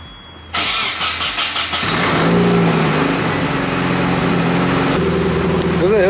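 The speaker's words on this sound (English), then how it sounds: "it's time to turn on the car, take it for a test drive." Nissan 240SX being started: a short cranking whir, then the engine catches and settles into a loud, rough idle with a steady low rumble and a slight rev near the end, a voice faintly underneath.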